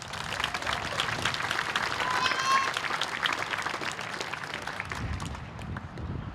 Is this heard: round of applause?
yes